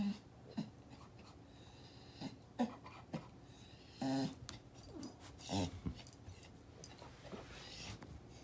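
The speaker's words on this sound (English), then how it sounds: "I didn't have a lot of Sandy the dog the last couple weeks." Small dog making soft, sporadic vocal sounds, quiet whimpers, grumbles and snuffling breaths scattered over several seconds, close and faint with no talk.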